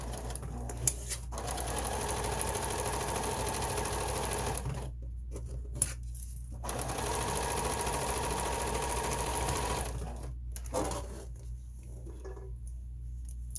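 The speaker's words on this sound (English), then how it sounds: "I'm going to sew another 1/4-inch seam." A sewing machine stitches a quarter-inch seam on a fabric mask in two long, steady runs of rapid mechanical whirring, separated by short pauses, close up and alone.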